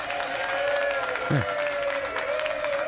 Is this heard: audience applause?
yes